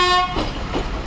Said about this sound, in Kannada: ಎಸ್, ಕೊನೆಗೂ ಟ್ರೈನ್ ಬಂತು